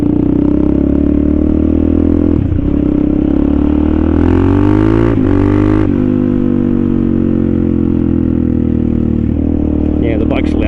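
Suzuki DRZ400SM motorcycle engine heard up close while riding, a loud steady thumping drone that rises and falls with shifts in revs, accompanied by wind rush and clatter, with no one talking.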